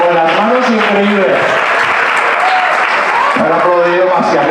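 Audience applause at a magic show, dense loud clapping filling the room while voices call out and talk over it.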